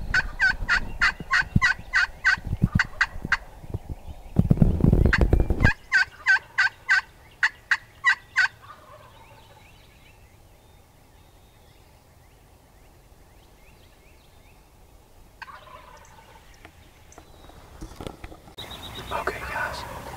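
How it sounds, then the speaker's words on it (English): Wild turkey gobbling at sunrise during a Kentucky youth spring hunt, a run of rapid loud gobbles in quick rhythm, with a later burst, quiet gaps and faint whispering around a hunting blind. "we got a bird fired up and gobbling"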